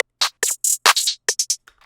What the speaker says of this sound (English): we have the hi-hat and clap, which is gonna sound like this together.